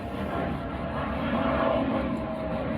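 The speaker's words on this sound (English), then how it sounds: "got a plane going" An airplane drones overhead outdoors, a steady, fairly loud engine rumble that fills the short stretch without pause.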